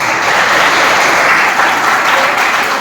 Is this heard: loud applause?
yes